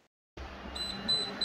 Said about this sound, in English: And 3 beeps naman.